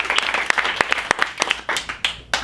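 An audience at an improv comedy show gives a brisk round of applause, with scattered sharp claps standing out from a lighter crowd patter.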